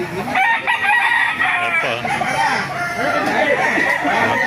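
Rooster crowing repeatedly alongside clucking chickens at a Baliuag market, loud and close, with people talking over the birds throughout.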